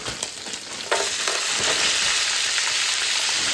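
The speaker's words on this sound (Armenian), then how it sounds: "Ու հիմա այստեղ ավելացնում ենք լոբին։" Beans dropped into a hot frying pan, setting off a sudden loud sizzle that holds steady and close, crackling continuously with light stirring and no voices.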